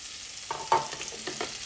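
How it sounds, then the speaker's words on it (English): Onion goes into hot oil for a mustard-onion sauce, with a short burst of sizzling and stirring scrapes close by, fairly soft and without speech. "what we need now is just to throw in half of our onion in there"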